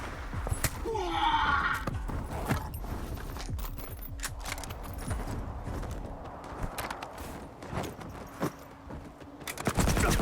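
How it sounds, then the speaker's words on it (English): Rapid bursts of gunfire in a firefight in the video game Stalker 2, where enemies use Gauss rifles, irregular sharp cracks and thuds spread across the scene, loud and close, with a dense volley at the end. "I think I'm running into enemies that are using Gauss rifles"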